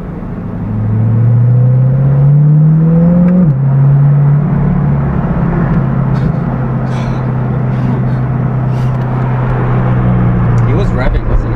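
A car engine revs up loudly, rising in pitch, then drops off and drones on as the vehicle passes close by in a continuous road rumble.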